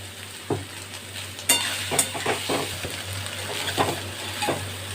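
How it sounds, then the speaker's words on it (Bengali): Soya chunks frying in white oil, a steady close sizzle broken by several sharp stirring scrapes and clinks from the pan. "একটু সাদা তেলে আমি একটু লাল করে ভেজে দেবো"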